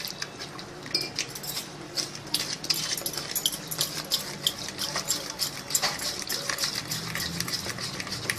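Water goes into a pot of simmering kadhi and is stirred, with repeated soft clinks of a spoon against the pot and faint sloshing at close range, no voices.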